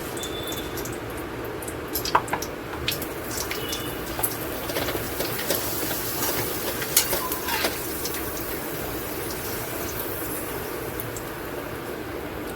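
Papad frying in hot oil, a steady close sizzle with faint crackles and scattered clicks running the whole time, no voices.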